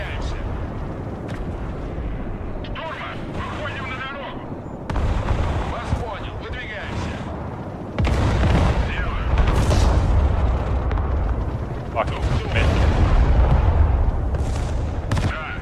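Bombs burst again and again in the modern warfare strategy game Broken Arrow, heavy booming blasts and rumbling layered with gunfire that grow louder in waves, with players talking over the battle.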